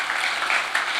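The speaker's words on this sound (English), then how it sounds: "Let's give them a round of applause as they make their way forwards." Audience clapping at a church service, a short burst of steady applause that stays even throughout and is heard on its own.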